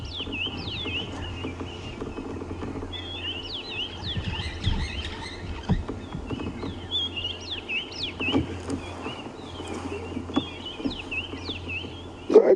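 Bird calls ring around a safari camp at sunrise: repeated chirps and whistles, moderately distant, over a low background hum, with faint pattering.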